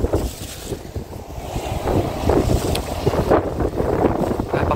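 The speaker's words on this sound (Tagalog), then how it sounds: "Mahangin kasi ngayon eh." Gusty wind buffets the microphone in a steady roar while fishing, with water sloshing and lapping nearby.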